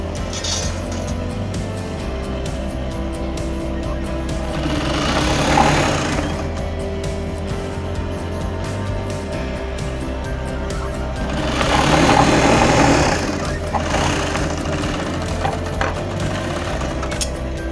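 High-speed sewing machine stitching a pillow cover, a steady mechanical whir with two louder, rattling stretches of fast stitching, close and continuous with no talking.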